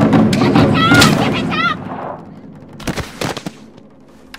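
Gunfire in a Chinese film trailer, a volley of sharp shots cracking out near the end after loud shouting voices and music, several quick bursts in close succession.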